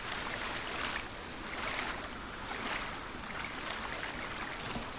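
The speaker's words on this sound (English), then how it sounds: "Oh, waterfall! Y'all, I love waterfalls." A waterfall in the video game Avatar: Frontiers of Pandora rushes in a constant, broad hiss of falling water that swells gently in places and continues without pause, with no voices.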